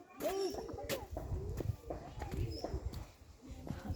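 Pigeons coo in low, repeated murmurs at Sidkeong Tulku bird park in Pelling, mixed with other bird calls and background chatter from nearby visitors.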